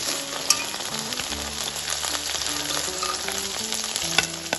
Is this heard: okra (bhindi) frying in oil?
yes